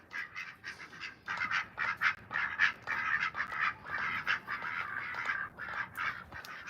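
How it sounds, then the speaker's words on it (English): A group of ducks in a cold yard quacking continuously, with overlapping raspy calls that rise and fall in loudness for several seconds, close by and without talk. "They just eat and quack."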